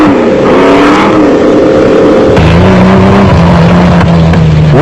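Off-road racing vehicles, a Jimco with A-arm suspension and a Jeep, chase each other on a dirt course; loud, continuous engine roar with shifting pitch as they rev and change gear, nearby and unbroken, no talk.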